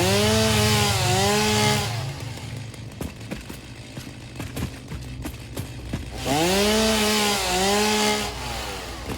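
Chainsaw revving in the video game Satisfactory, loud bursts of engine whine rising and falling at the start and again near the end, with quieter idling and clatter in between.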